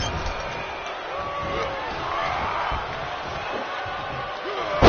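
A wrestling arena crowd in the WWE 2K25 video game roars and cheers steadily, a dense sustained wash of voices with scattered whoops, ending in a sudden louder burst.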